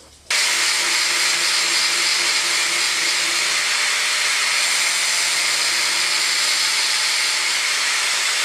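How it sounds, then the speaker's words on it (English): An angle grinder fitted with a cutting disc for delicate grinding kicks in abruptly, then holds a loud, steady, high-pitched whine close by with no pauses and no talking. "To do this fairly delicate grinding job, I'm going to use a cutting disc"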